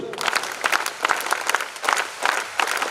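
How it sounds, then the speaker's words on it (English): An audience at an international cultural jamboree in Moodbidri gives a round of applause: brisk, close, crackling claps from many hands, with individual sharp hits standing out in the even burst. "we are going to give a round of applause to him now"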